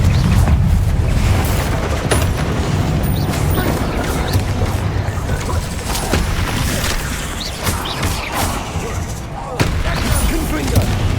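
Confringo blasting-spell explosions in the Hogwarts Legacy video game, dense booming blasts and sharp cracks firing repeatedly in a loud, chaotic combat mix, with a voice calling out amid the noise.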